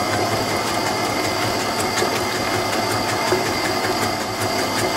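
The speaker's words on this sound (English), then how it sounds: "just mix that in low, on low speed, so it's just combined" Electric mixer on low speed blending a single egg into batter for peanut butter bars, giving a steady continuous whirring hum with faint rhythmic clicking, close and unbroken for the whole stretch with no talking.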